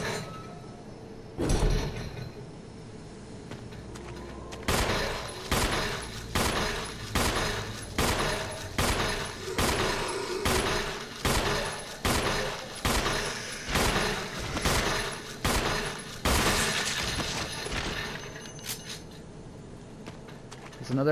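Gunshots ring out in the Resident Evil Remastered video game, a long series of sharp, loud reports fired at a steady rhythm roughly every second, each with a short ringing tail, with a few clinking sounds in between.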